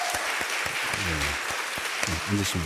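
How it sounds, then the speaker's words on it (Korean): Steady applause from a church congregation during a Sunday service, broad and continuous, with a voice speaking over the clapping near the end. "잠깐 일어나시면 우리 박수로 환영하겠습니다"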